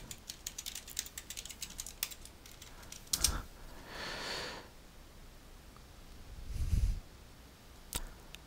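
Quiet typing on a computer keyboard, with scattered key taps and a few louder clicks spread unevenly and faintly across the stretch.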